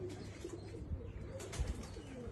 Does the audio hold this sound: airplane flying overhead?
no